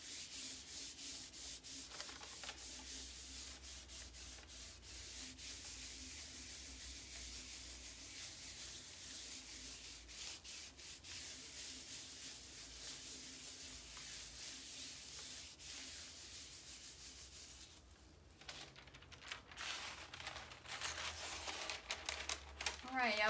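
A wooden side table being rubbed down by hand with a liquid patina gives a soft, steady scratchy rubbing that continues throughout at low volume, with some talk and a brief quieter change near the end.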